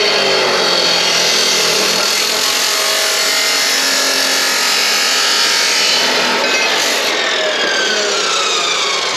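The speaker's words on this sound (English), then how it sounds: "This is my new tool, it's a chop saw." A chop saw cuts through a 2-inch steel exhaust pipe for a Mk3 Vauxhall Cavalier 2.0 16v, a loud, continuous abrasive shriek that holds steady for several seconds.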